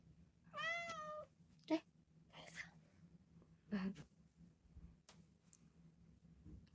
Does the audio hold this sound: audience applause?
no